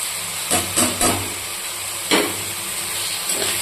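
Ginger, chili and tomato paste going into hot oil for moong dal khichuri with gobindobhog rice: a steady sizzling hiss broken by a few louder spits and stirring clatters, close and without talk.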